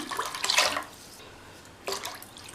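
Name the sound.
pouring water into cooking pot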